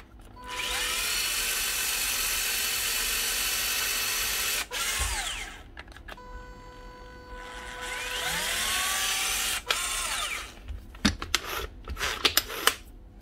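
Repaired 2020 Makita DCG180 cordless caulking gun running its motor in long buzzing stretches with whining speed changes, brief stops between, and clicks and clunks of handling near the end.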